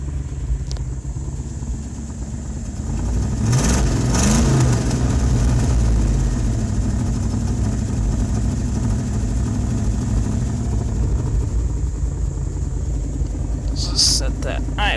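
Automixer engine idling after a cold start, a steady low rumble throughout with a brief rise in revs partway, while someone talks over it.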